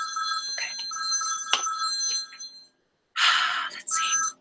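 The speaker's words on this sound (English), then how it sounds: "Now the God phone is ringing." A telephone rings with a bright electronic bell tone, a long ring followed by a brief pause and then another short burst, close and clear with soft breathing nearby.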